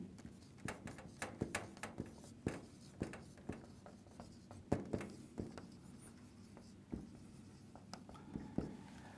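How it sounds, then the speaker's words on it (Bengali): Chalk or pen scratching out a surface-area formula for a box in a maths lesson, a steady run of close, crisp taps and strokes with no talking. "এবার আমরা তার পৃষ্ঠতলের ক্ষেত্রফলের সূত্রটি লিখি"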